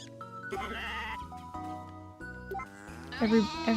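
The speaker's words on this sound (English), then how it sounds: "the sheep are so loud" Sheep bleating in the farming video game Story of Seasons: A Wonderful Life, several loud, wavering bleats over soft game music with light jingling, the last call rising strongly at the end.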